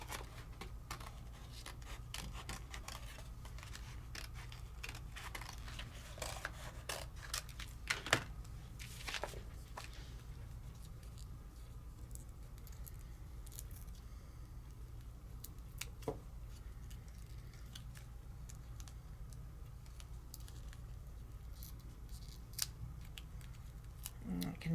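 Scissors cut out a detailed paper craft piece with faint, scattered snips and light paper rustling, quiet and close throughout.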